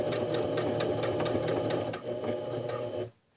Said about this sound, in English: My machine doesn't have a way to do a locking stitch on a 3-step zigzag, so I start out with a 0 stitch length.